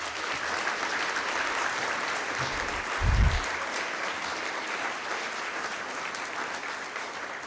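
Steady applause from an audience at an alumni awards ceremony fills the room, a continuous dense clatter of clapping with a brief low thump partway through.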